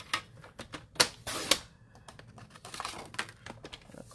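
A paper trimmer cuts cardstock with a quick run of sharp clicks and slicing snaps. Two stronger cuts come in the first half, followed by lighter scraping taps, all close up and fairly quiet.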